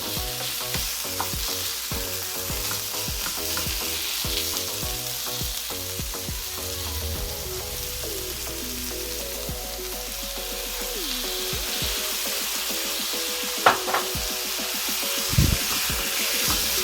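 Chicken for chicken pastil fries in a pan just after soy sauce goes in, giving a continuous loud sizzle and bubbling with occasional clinks of stirring, and no one talking.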